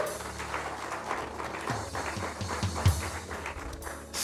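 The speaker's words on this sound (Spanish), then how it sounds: "Démosle un aplauso al Señor y comencemos." A church congregation applauds, a moderate patter of clapping hands building over several seconds with a few louder thumps, heard somewhat distant in a large room.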